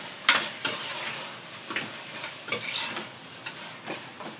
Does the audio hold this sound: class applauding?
no